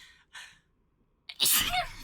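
A single close, sharp human sneeze bursts out loudly after a brief breathy intake, with a short vocal tail; it occurs during a Dragon Age: Origins play session.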